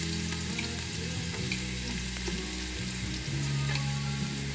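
Onions sauté in a pan for a macaroni sopas snack, producing a dense, continuous crackling sizzle with occasional stirring scrapes, up close, with a sustained tonal hum underneath.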